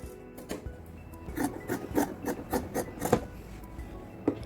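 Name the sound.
cutting a fabric piece for a nightie neck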